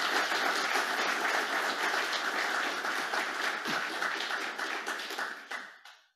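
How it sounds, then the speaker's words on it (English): An audience at an anniversary conference applauds honoured past presidents with sustained, dense clapping that holds steady, then fades out near the end. "A special applause for you"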